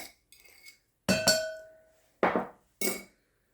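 Butter and two sugars dropped into a mixing bowl: a few sharp clinks and knocks against the bowl, spaced apart with ringing tails, loud and close with quiet gaps between.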